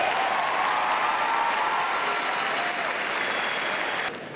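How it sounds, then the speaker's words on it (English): A graduation audience applauds its teachers, a dense, steady wash of clapping from a large crowd that holds at full strength for about four seconds before dropping off slightly near the end. "Let's give them a round of applause to thank them"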